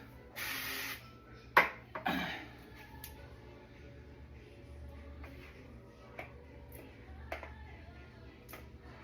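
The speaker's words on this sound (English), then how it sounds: "spray cooking spray into your measuring cup first" A short aerosol hiss of cooking spray near the start, followed by clinks and light handling noises against quiet background.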